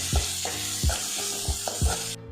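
Onions sautéing in hot oil for masala dosa filling, a steady sizzle broken by four regular scraping strokes of a spoon stirring the pan, close and alone without talk.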